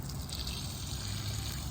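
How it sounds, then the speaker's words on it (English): Water drains steadily from an opened irrigation system, a continuous low rushing and trickling that stays even and fairly close throughout. "the next thing we have to do is drain the system of water"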